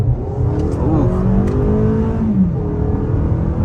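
A 2023 Toyota RAV4 XLE accelerates onto a multi-lane highway, its engine rising in pitch as the revs climb, with a loud, steady whir and road noise from inside the cabin.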